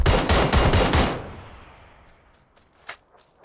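Automatic gunfire in PUBG on the Sanhok map bursts rapidly for about a second, then fades into a trailing echo followed by a single fainter distant shot.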